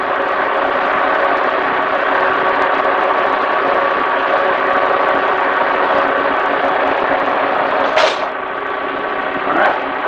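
A Kearney & Trecker 2CH milling machine runs at its fast setting, around 300 RPM, with a steady loud mechanical hum and whine, close by and unbroken, plus a brief knock near the end.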